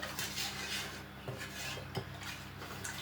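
A spoon stirs sugar into homemade elderflower wine in a pot, scraping and clinking against the sides in soft, uneven strokes close by, with no one talking.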